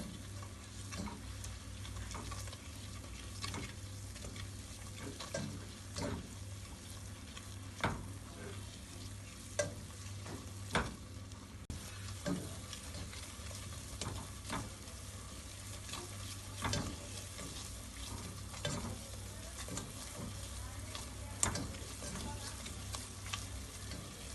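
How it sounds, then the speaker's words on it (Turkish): Flour being roasted in melted margarine for a milk pudding, a soft continuous sizzle with occasional scraping stirs and small clinks against the pot, fairly quiet and steady throughout. "Unumuzun kokusu çıkana kadar margarin, margarinimizi ve unumuzu kavuruyoruz."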